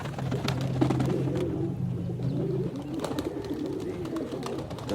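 Pigeons cooing in repeated low, throaty phrases close by, with soft rustling and a few faint clicks between the calls, no talk.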